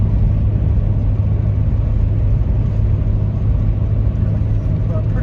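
A Toyota Landcruiser 100 Series with a 1HDFTE diesel engine under boost on the road, a loud steady low drone and rumble throughout, with a voice talking over it.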